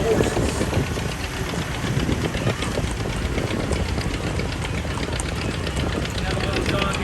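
An antique John Deere 430 tractor rolls past in an outdoor parade, its engine running with a steady low rumble close by, mixed with crowd noise and talk throughout.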